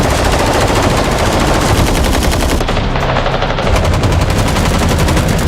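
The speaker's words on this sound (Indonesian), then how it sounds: "Tidak lama, muncul mobil pemburu kemudian menembaki mobil peserta." Sustained automatic gunfire as hunter cars open fire on contestants' cars in a film chase, a loud, dense rattle of rapid shots running throughout, with a brief dip midway before the burst resumes.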